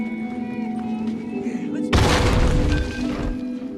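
A nail bomb detonates in The Last of Us video game, a sudden loud broadband blast about halfway through that rumbles and decays over the next seconds above a steady ambient game hum.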